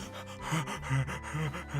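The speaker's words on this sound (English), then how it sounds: "y'all love breathing in the mic" Heavy, rhythmic breathing and gasps close to the microphone from video game voice acting in Trails of Cold Steel, a string of panting breaths with no talking.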